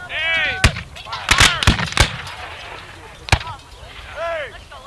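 A ragged musket volley at a battle reenactment, with several sharp, loud cracks fired unevenly rather than together, each standing out against shouting voices in the background.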